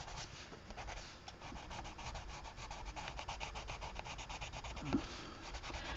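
A Prismacolor colored pencil laid in peach over a coloring-book cover, a faint close scratchy rubbing in fast repeated back-and-forth strokes.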